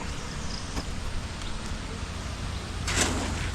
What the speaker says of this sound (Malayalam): ഇതുവരെ തീർന്നിട്ടില്ല, നല്ല മഴയുണ്ട്.